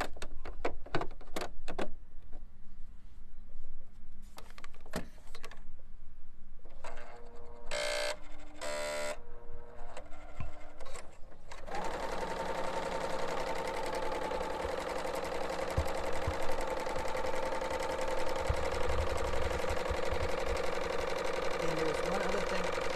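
A BERNINA sewing machine set to an overlock stitch with the Curve Foot #C23 runs a test seam on scrap fabric, starting with short bursts and then settling into a long, steady, loud mechanical whir.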